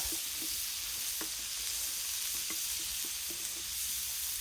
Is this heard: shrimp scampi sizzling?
yes